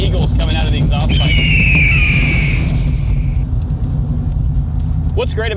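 A 1965 Shelby Cobra replica's exhaust rumbles deep and loud while it drives, a continuous throaty drone with a person talking over it.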